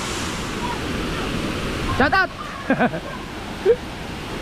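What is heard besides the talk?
river water flowing beside the highway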